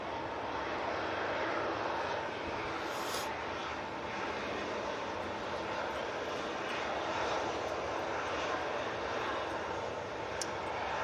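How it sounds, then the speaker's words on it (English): A TUI Boeing 737-800 takes off for Lanzarote at Manchester Airport in stormy weather, its engines a steady, broad roar that holds at even loudness throughout. "TUI now turning on 737-800 and we'll be going off to Lanzarote"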